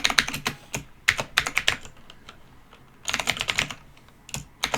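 Quick clusters of computer keyboard keystrokes come close and crisp as code is typed, pausing briefly between bursts.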